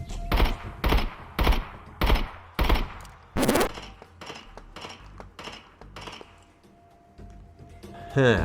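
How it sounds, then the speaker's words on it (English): Loud video game gunshots picked up through an Antlion Modmic Wireless, a string of about six evenly spaced sharp bursts followed by softer scattered shots and clinks, with a quiet stretch and another hit at the end. "In the Antlion Modmic Wireless, we found that gunshots came through because they're particularly loud."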